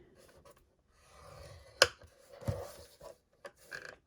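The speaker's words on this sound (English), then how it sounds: "I'm going to score at 1 inch" Paper being scored at the one-inch mark on the long side while making a 3D box, heard as quiet close-up scraping and rubbing strokes with a sharp tap partway through and a few light clicks after.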